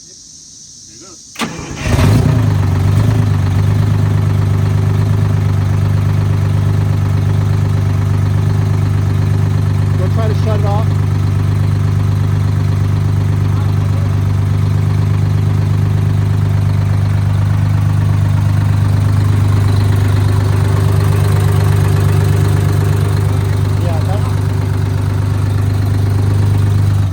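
A Detroit Diesel engine in a Flxible bus cranks and catches after a short quiet start, then runs on as a loud, steady low diesel drone, with faint voices barely audible over it.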